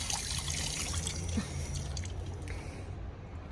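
Water poured from a container onto garden soil on a terrace, a soft steady splashing and trickling that fades out near the end, close by with no talk.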